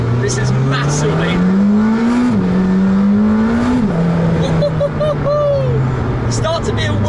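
McLaren Senna supercar driving on bumpy, greasy roads, its engine droning loud and steady with a rising pitch that drops at gear changes, sustained close throughout under someone talking.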